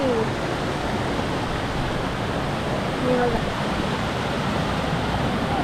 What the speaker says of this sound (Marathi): हे बघा हे इथून पाणी येतं डायरेक्ट इथून खाली